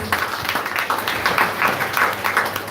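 An audience at a Kartik holy-night devotional gathering breaks into steady applause, a dense, continuous patter of many hands clapping at moderate loudness for a couple of seconds.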